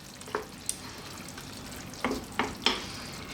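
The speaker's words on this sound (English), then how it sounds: "Now, let's get our coconut milk in there. Give that a mix." Lamb curry with coconut milk is stirred in a pot over low heat, a soft simmering hiss underneath and a few brief scraping strokes of a spoon against the pan.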